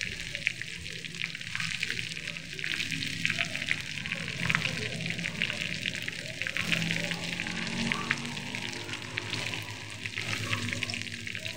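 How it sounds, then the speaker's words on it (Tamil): Curry leaves sizzle and crackle steadily in hot oil while Paneer 65 is being made, a dense continuous frying hiss with small pops, close and fairly loud throughout. "இது எண்ணெயிலே ஃப்ரை ஆகட்டும்."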